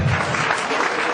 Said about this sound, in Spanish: brinde un fuerte aplauso a nuestro Dios.